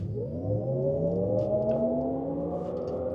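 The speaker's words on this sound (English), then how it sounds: "we must launch this Escalade IQ" A 2025 Cadillac Escalade IQ electric SUV launches in VMAX mode, a rising electric motor whine sweeping smoothly upward in pitch over a low road rumble, heard from inside at moderate loudness.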